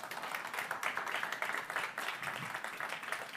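A church congregation applauds during a sermon, a steady wash of many hands clapping at moderate volume with no gaps, dense and continuous throughout.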